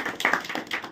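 A short burst of audience clapping at a cultural festival gathering in Naihati, a quick ragged patter of hands lasting about a second, close and moderately loud.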